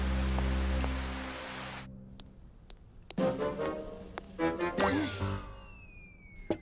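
Cartoon rain pours as a steady hiss that cuts off, followed by scattered drips and ticking drops with a few plinking sounds, moderately loud and close with no voices.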